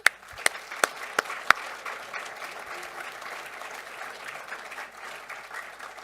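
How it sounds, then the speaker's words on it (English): Applause for award recipients at a 2023 award ceremony, opening with a few sharp, close claps, then a steady, moderately distant patter of an audience clapping. "give one large round of applause, final round of applause for all the award recipients who are here today"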